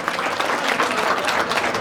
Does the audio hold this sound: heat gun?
no